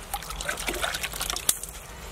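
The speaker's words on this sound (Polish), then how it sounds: "od razu po takim murowaniu cegieł warto spłukać sobie kamienie, żeby na nich nie została żadna zaprawa" Water splashes and trickles close by as mortar is rinsed off the foundation stones of an old house during bricklaying. The sound is an uneven, continuous patter with no talking.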